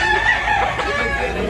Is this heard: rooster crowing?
yes